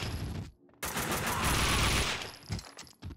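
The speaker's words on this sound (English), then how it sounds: "Someone must have heard the gunfire." Rapid bursts of automatic gunfire in the video game Max Payne 2, a dense sustained fusillade with short gaps, loud and close with no talk over it.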